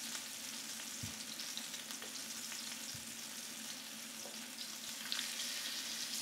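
Chicken cutlets sizzle quietly in a pan, a steady faint frying hiss with a couple of soft knocks.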